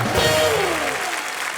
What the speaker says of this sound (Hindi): जोरदार तालियां गोविंदा सर के लिए